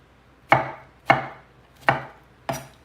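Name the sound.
knife dicing strawberries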